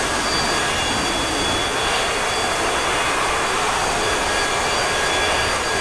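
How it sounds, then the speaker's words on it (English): An A-4E-C Skyhawk jet engine runs steadily during taxi in the DCS flight simulator, a loud, constant, dense whine and roar with no breaks throughout. "So we've got the aircraft up and running, of course, as you can see, and we're going to start our taxi down to the end of the runway"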